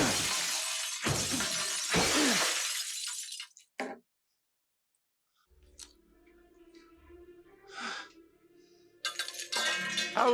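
Glass shatters loudly in a television drama scene, several sharp crashing bursts in quick succession, then a silent gap, followed by quieter clinks and scraping debris and another burst of breaking glass at the end.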